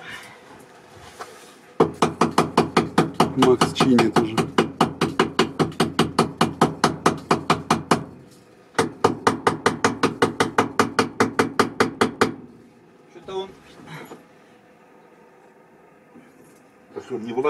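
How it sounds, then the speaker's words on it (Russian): Rapid, steady light hammer taps on a metal part of a ZAZ car in two long bursts, close and sharp, followed by a few scattered knocks and a brief spoken remark. "А ты мне можешь молоток дать? Я легенько постучу"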